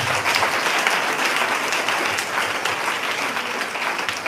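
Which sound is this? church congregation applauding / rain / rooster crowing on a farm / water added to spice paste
church congregation applauding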